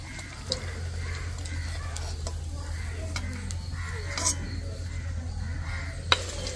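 Semolina pitha fry in hot oil with a soft, even bubbling sizzle under a low hum, and occasional light clicks from the pan sound over it.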